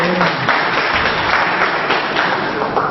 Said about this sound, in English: Could we have a round of applause for Mrs. Shashore?